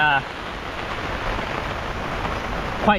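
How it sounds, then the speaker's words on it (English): Heavy rain from Cyclone Jasper pouring steadily outdoors overnight in tropical Queensland, a dense continuous roar of rainfall with brief voice fragments at the start and end. "You guys can see, very heavy rain. It hasn't stopped all night."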